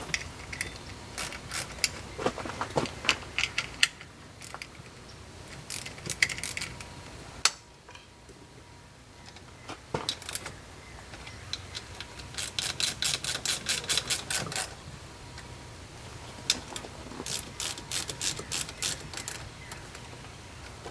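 A ratchet tightens the bolts on a quick hitch being installed: bursts of rapid metallic clicking come in several separate runs, close and fairly quiet, with short pauses and occasional clunks between them.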